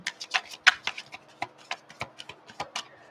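Tarot cards are shuffled by hand in a string of quick, crisp riffling taps and slaps, close and fairly quiet, with short pauses between bursts.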